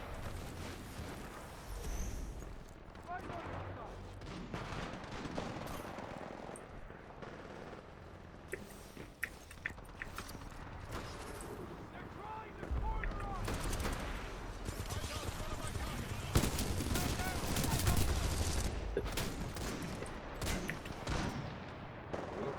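Gunfire in Titanfall 2, bursts of shots and heavier blasts scattered through a busy combat mix, mostly mid-distance, under frequent talk.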